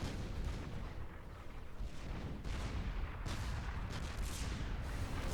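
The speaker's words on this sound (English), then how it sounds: "Fortified artillery." Fortified artillery in the Supreme Commander 2 strategy game firing repeatedly, a dense rumble of heavy booms and blasts that keeps going with no pause.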